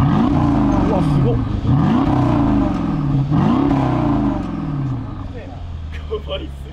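A limited-edition Mercedes-AMG S-Class coupe revs loudly near its exhaust in three rising, falling bursts before settling, while people talk excitedly over the engine.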